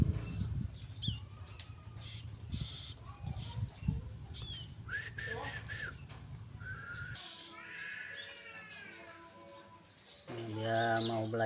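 A young bar-winged prinia (ciblek) chick gives short, high chirps and thin calls in scattered bursts, close by, with some faint background sounds between them.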